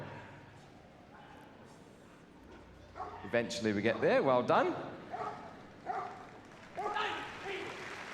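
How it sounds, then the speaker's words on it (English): A police dog barks and yips in quick bursts at middle distance during a police dog unit display at Crufts 2013, while someone speaks briefly over the faint background. "the dog will stand out and bark"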